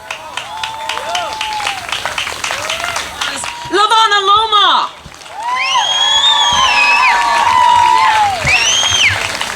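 A crowd at an outdoor freedom rally in Honolulu's Ala Moana area claps and cheers loudly and steadily, with whoops and shouted voices rising over the applause throughout.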